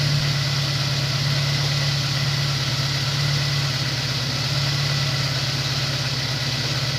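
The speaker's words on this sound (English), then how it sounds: "Car sounds normal now." A Honda S2000 engine idles steadily after a melted coil pack was replaced, giving a smooth, even low hum with a constant drone and no misfire, close and continuous throughout.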